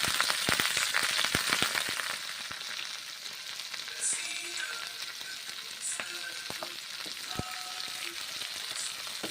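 Mixed vegetables with cauliflower fry in hot oil for a Bengali five-vegetable curry, a dense close sizzle broken by sharp pops and spatters and scraping stir strokes, sustained for about nine seconds with no talking.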